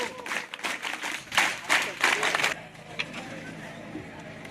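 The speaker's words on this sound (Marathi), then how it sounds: "ज्यांना हात असतील त्यांनी टाळ्या वाजवायच्या" A crowd at a Bharat Scouts and Guides district gathering closing and prize-giving ceremony bursts into several rounds of loud clapping, then fades into quieter murmur and scattered claps.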